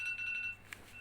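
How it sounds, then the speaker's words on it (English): An electronic alarm clock beeps in quick, evenly spaced high pulses for about half a second before stopping, followed by one short chirp; the sound is faint and thin against a quiet indoor background. "Wait, my alarm clock is."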